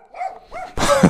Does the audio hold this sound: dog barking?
yes